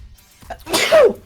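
A single sharp sneeze bursts out close to the microphone during a tabletop role-playing game session, brief and loud against a quiet background.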